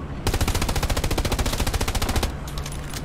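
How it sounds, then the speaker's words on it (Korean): A machine gun firing in the World War II shooter Hell Let Loose, a loud, rapid, even burst of about two seconds followed by a fading tail. "MG 그냥 쏘고 재장전해야겠다."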